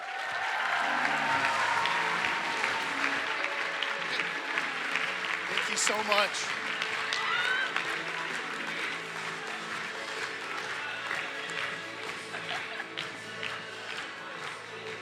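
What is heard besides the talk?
audience applause for a speaker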